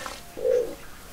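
Pigeons from a realistic pigeon mod in the Minecraft video game give a single soft, low coo, swelling and fading mid-clip over a quiet background.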